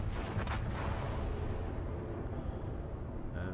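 Battleship secondary guns fire in World of Warships aboard the Colorado, a dense, booming rumble of continuous gunfire and blasts with a sharp burst near the start.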